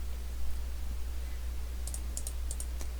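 Computer mouse clicks while working in Canva, a quick cluster of six or so sharp, light clicks near the end, heard over a steady low hum and faint hiss.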